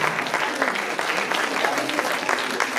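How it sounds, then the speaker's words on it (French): Audience applause for students at a poetry festival presentation in Vence, dense steady clapping from a crowd throughout, fairly loud and continuous with no speech over it. "on peut les applaudir"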